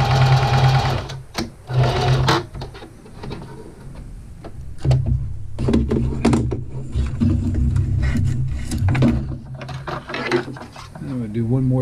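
Sewing machine stitching a foot strap for a foot ascender, heard as loud, close mechanical whirring in several bursts with pauses and clunks between them, while someone talks over it.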